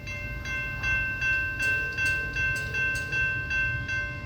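A CSX freight train slows toward a stop, its heavy low rumble pulsing in a steady rhythm of regular beats, with a sustained high whine or squeal running across the whole stretch.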